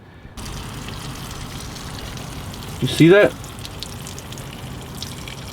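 Dirty rinse water drains steadily from a K&N air intake filter on a VW GTI MK7, a continuous wash of flow with a brief louder surge midway as someone speaks over it.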